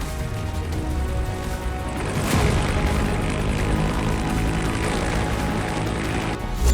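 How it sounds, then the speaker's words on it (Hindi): Belarusian Mi-8 and Mi-24 attack helicopters fly near the town of Białowieża, their engines and rotors making a loud, continuous droning roar with no break. "बेलारूस के दोनों Mi-8 और Mi-24 अटैक हेलीकॉप्टर बियावोविएजा शहर के नजदीक मंडराने लगे।"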